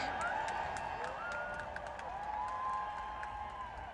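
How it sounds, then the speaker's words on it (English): Crowd at a concert at Wembley Stadium cheering and applauding the staff sweeping up confetti after the show; a broad, steady wash of distant cheers and clapping with occasional whistles, continuous throughout. "a load of the crowd stayed to cheer on these staff who do this amazing job"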